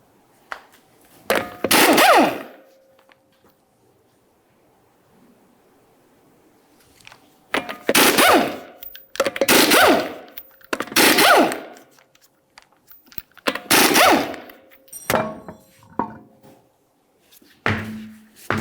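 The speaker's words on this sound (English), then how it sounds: "you can continue on to removing all 5 of your 19mm lug nuts and then the wheel" An impact wrench loosening the five 19mm lug nuts on a Ford Fusion wheel: six loud, close bursts of buzzing rattle, each a second or two long, separated by quiet pauses.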